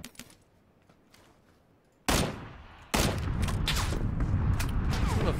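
Gunfire in PUBG: a single sharp distant crack, then a burst of loud, dense shots that settles into sustained rapid firing over background ambience, with no voices.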